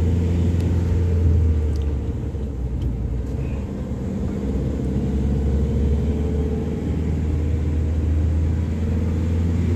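A car engine labours up a steep mountain road near the isolated village of Langza in Spiti, giving a steady, loud low rumble with a continuous drone that holds throughout and no voices over it.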